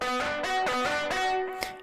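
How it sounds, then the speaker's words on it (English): In FL Studio, a distorted synth lead preset called lead taps plays a short phrase of loud, buzzy sustained notes for a beat's chorus, heard alone with no talk. "the instrument that I applied the distortion on in the chorus is called lead taps"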